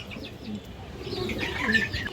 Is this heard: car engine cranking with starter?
no